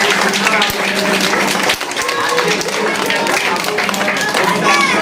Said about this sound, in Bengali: সবাই জোরে হাততালি দাও